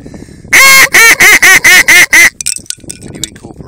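A wildfowling duck call blown as a feed chatter: seven short, loud, evenly spaced quacking notes in a quick rhythm, followed by softer scattered sounds.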